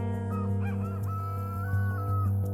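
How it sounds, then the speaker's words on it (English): Repeated bird calls, rooster-like chirps and crowing, over a sustained humming musical drone. "For 3 days, she tracks the sound of the bird."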